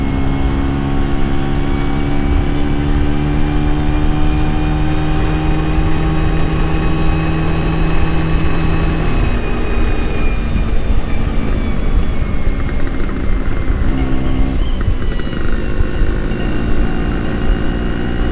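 A Vespa scooter's engine and exhaust drone steadily on a mountain tour, a loud continuous tonal hum that shifts pitch with the throttle, with passing traffic rumbling in alongside.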